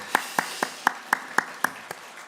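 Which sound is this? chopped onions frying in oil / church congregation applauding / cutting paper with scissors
church congregation applauding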